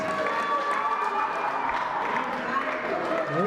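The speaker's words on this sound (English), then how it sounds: "let's give these guys a big, big round of applause" Crowd applause fills a boxing venue after a Western Cape lightweight title fight, a steady dense wash of clapping mixed with cheering and crowd noise, with speech faintly under it throughout.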